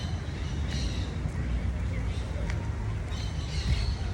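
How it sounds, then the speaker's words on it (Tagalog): Birds squawking near a jaguar enclosure, harsh calls scattered over a steady noisy background, with people talking throughout. "Lots Birds. birds. Birds."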